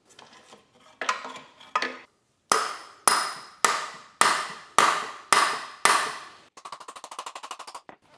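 Impact wrench blasting the axle nut off a BMW E30 with a turbo M50 engine: a scattered opening clatter, then seven loud, evenly spaced hammering bursts, ending in a rapid buzzing rattle, close by with no talk.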